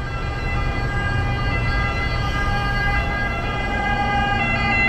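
Ambulance siren of the SAMU emergency service in a Rome city-centre street, a loud, steady wailing tone that dominates the scene continuously without pause.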